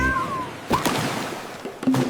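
A small cat meows in a short, high, gliding cry near the start, followed by a few scattered thumps and a brief tonal squeak amid a busy background.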